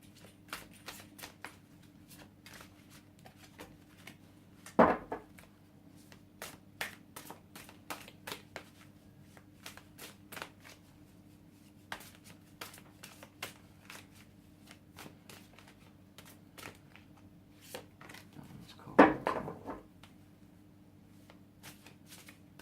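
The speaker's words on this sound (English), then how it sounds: "Really hard cards to shuffle, I will say." A deck of cards is shuffled by hand, a soft, steady riffling and crackling texture with two louder bursts of bridging, faint and close, with no talking.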